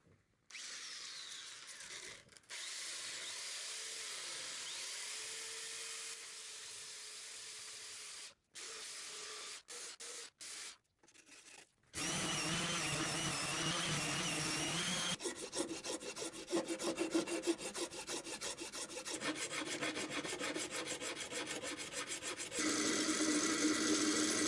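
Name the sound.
belt sander shaving sides of paper guitar body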